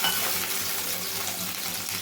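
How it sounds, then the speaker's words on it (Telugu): Water sprinkled over a hot dosa pan, giving a dense continuous hiss and sizzle that stays loud and even throughout, close up with no talking. "అట్లనే మళ్ళీ వాటర్ చల్లుకోవాలండి"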